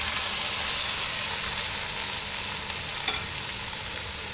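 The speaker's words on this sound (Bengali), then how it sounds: "এই তো ঢ্যাঁড়সটা এখানে হচ্ছে, ঢ্যাঁড়স ভাজিটা" Okra frying in a pan on a rainy day, a steady broadband sizzle with faint stirring and a small scrape near the end, close and continuous without voices.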